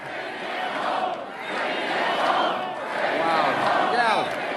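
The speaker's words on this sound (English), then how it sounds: "Look at this crowd, incredible." A large crowd at a political rally cheers and roars in sustained waves, loud and dense, with no single voice standing out.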